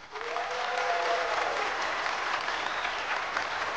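Studio audience applause on a French television game show, a full, steady burst of clapping from a crowd that holds for several seconds without voices over it.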